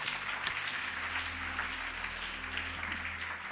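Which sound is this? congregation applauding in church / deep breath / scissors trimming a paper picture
congregation applauding in church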